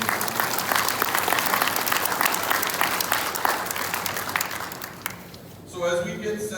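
A Hall of Fame induction crowd gives sustained, dense applause that tapers off, then a speaker begins talking into the hush.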